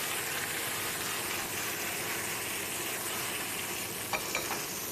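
Bok choy flash-fries in a hot pan with a constant, close sizzle and hiss, a couple of brief clinks or stirs near the end; no one speaks.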